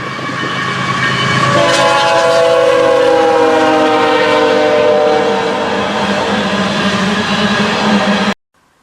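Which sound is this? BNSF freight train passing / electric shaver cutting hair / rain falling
BNSF freight train passing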